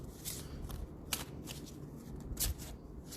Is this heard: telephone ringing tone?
no